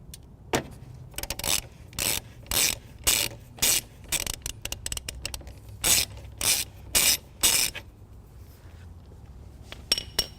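A ratchet wrench loosens the positive battery terminal nut on a 2014 Dodge Journey during trailer wiring work, giving quiet, close bursts of rapid clicking in an uneven rhythm, with brief gaps between strokes.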